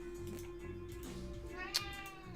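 A cat gives a single short meow partway through, heard indoors over a steady low hum and faint background noise.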